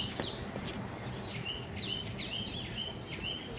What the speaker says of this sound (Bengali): ভোর ভোর সূর্যোদয়ের আগে যদি একটা ঠান্ডা ঠান্ডা পরিবেশ থাকে, অনেক পাখি ডাকে